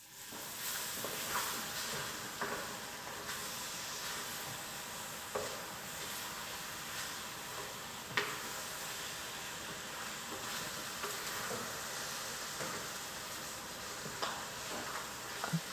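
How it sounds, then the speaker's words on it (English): Mushrooms sizzle steadily in a hot pan, a fairly quiet, continuous crackle broken by a few soft clicks and taps from stirring, with no voices. "The honorable mushrooms cook like this too."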